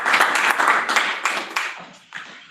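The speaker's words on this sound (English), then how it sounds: "Like golf clap, light cheering and applause." Light, scattered applause with soft cheering from a small gathering at a leadership webinar, a polite golf-clap pattern of claps that tapers off over a couple of seconds.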